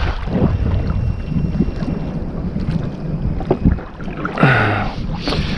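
Strong wind buffets the microphone on a kayak during shore fishing, a steady close rushing roar with gusty swells and light water and hull knocks.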